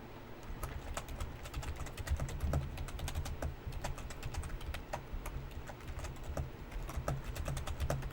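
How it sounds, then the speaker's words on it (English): Continuous fast typing on a computer keyboard, dense irregular key clicks and clacks close up and steady throughout, no voices. "So I'm just typing these for chat."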